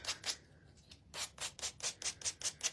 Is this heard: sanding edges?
yes